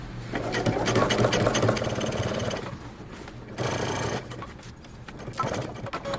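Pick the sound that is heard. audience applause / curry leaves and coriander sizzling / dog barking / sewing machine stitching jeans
sewing machine stitching jeans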